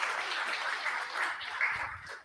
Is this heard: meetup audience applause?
yes